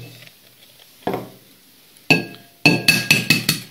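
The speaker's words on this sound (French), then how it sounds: "Vous allez commencer par casser vos 3 œufs." Eggs cracked for a parsley onion tart: a soft tap, then several sharp shell knocks and clinks against a bowl rim in quick succession, close and clear, with no talking.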